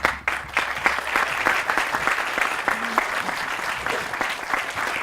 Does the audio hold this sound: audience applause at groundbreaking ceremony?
yes